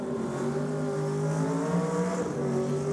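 A drag racing car roars loudly down the strip at a championship drag meet, its engine note a sustained, harmonic-rich howl that shifts pitch slightly as it runs.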